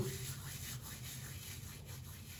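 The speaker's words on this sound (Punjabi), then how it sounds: "ਇਹਨੂੰ ਅਸੀਂ ਇਦਾਂ ਹਥੇਲੀ ਤੇ ਦਰੜ ਕਰਕੇ ਪਾਵਾਂਗੇ" Dried fenugreek leaves (kasuri methi) crushed between the palms while making Amritsari petha dal wari, a faint, continuous dry rubbing and rustling heard close and alone.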